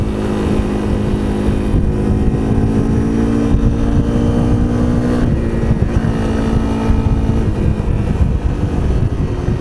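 Honda CRF 250 L motorcycle engine droning steadily while riding at quarter throttle, a loud continuous close-up hum with a slight pitch shift midway, no talk.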